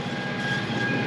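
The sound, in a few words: tractor-driven rotary chopper mowing corn stalks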